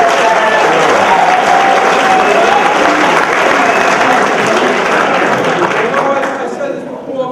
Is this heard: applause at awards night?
yes